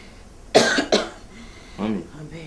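A sick woman coughs twice, sharp and close. A short spoken phrase follows.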